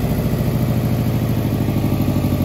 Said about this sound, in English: Kind of sounds like I might have an exhaust leak.